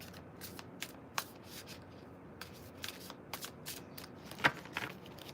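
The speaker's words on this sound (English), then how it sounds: "couple more shuffles and then we'll get started" Tarot cards being shuffled repeatedly, soft riffling with crisp flicks and snaps, close and steady, with no talking.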